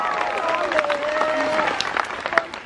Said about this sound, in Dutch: Groot applaus voor Isis!